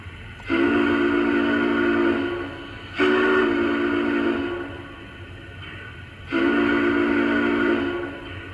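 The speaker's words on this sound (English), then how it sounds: "So this has a quilling whistle." A Lionel Lionmaster Challenger model train's quilling whistle (2012) blows three times, each a sustained, fairly loud wavering tone with a short pause between blasts.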